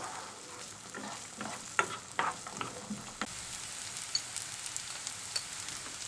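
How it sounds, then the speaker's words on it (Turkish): Garlic sautéing in olive oil in a pan, a steady close sizzle with a few light scraping stirs, moderately loud and heard alone without any talk. "Şimdi de sarımsaklarımı ilave ediyorum. Ve 2-3 dakika soteliyorum."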